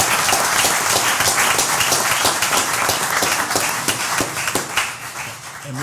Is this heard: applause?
yes